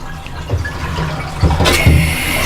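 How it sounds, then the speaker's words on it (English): Hot water from a shower running into a bucket for hand washing cloth diapers, a steady close gush and splash that swells as the stream shifts, rushing on throughout. "I'm gonna start filling up my bucket with hot water for the wash"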